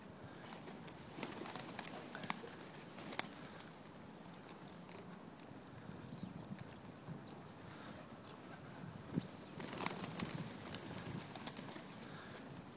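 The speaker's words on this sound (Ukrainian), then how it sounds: "Бачиш, як голубчики сімочки люблять." Pigeons coo softly around people feeding them outdoors, with faint rustling, scattered wing flaps and light movement under a quiet, continuous background.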